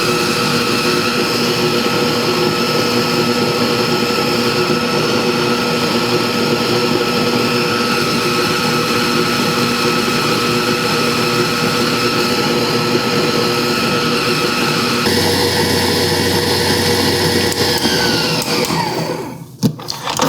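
A CWIIM 8.5-quart, 660-watt tilt-head stand mixer creaming ingredients in a large bowl, giving a loud, steady motor whir with a constant pitch that shifts slightly before it winds down near the end.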